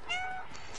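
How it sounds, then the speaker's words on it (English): A single short cat meow in the game Stray, clear and close, fading quickly. "I can do the meow thing."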